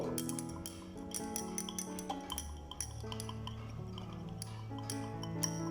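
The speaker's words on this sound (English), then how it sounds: "Stir with glass rod" A glass rod stirs potassium hydroxide dissolving in water in a glass beaker, giving light repeated clinks against the glass over soft background music.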